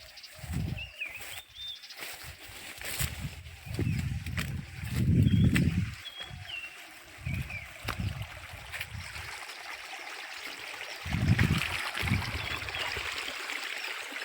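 Water trickles and streams across a rocky hill path, a steady near wash with occasional louder splashing surges, while bird calls chirp faintly in the background.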